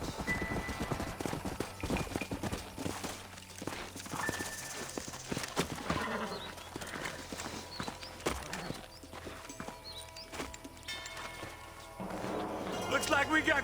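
Rhythmic horse hooves clip-clop along amid game music and clattering effects in Red Dead Redemption, steady and fairly close throughout.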